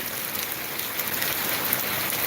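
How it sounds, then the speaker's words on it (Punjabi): Heavy monsoon rain pours down steadily in Bathinda, Punjab, making a dense, even hiss of drops on the surfaces nearby, with no voices. "ਪਰ ਹਲੇ ਤੱਕ ਮੀਂਹ ਲਗਾਤਾਰ ਜਿਹੜਾ ਪੈ ਰਿਹਾ ਹੈ"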